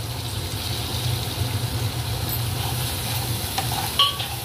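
Ginger paste stir-fries in a pan for a Bengali fish curry, with a steady moderate sizzle and scraping stirs, plus a faint low hum beneath and a sharper clink near the end.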